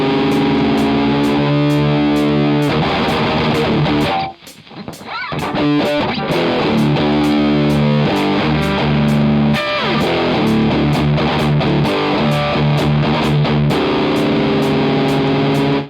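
Heavy, pitched-down distorted electric guitar plays a chugging breakdown riff, loud and dense, with palm-muted stabs and a brief drop-out near the middle before the riff slams back in.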